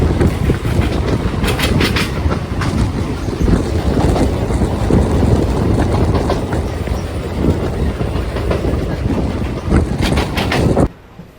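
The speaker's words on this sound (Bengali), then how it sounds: "ট্রেনটা চলে আসলো আমারুন" An EMU local train on the Barddhaman to Katwa line rumbles steadily along the tracks, loud and close, with rhythmic clatter of wheels throughout before cutting off abruptly at the end.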